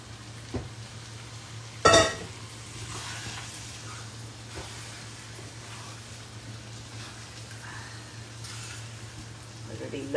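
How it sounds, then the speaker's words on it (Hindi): Chicken and masala frying in a kadhai on high heat, a soft steady sizzle with a sharp clatter as ingredients go in, while a person talks over it. "तो अब तेज आंच करके हम ये चिकन डाल देंगे हमारे कढ़ाई के अंदर"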